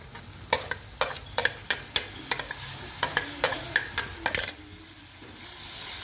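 A spoon stirs and scrapes through a sizzling pan of onion, green chilies and tomatoes, with repeated sharp clinks against the metal over a steady frying hiss, close by.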